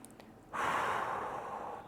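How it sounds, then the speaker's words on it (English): A single deep breath taken during a rest between shoulder mobility exercise sets, a brief faint intake followed by a long, soft, airy exhale close to the microphone. "So we're going to take a couple breaths."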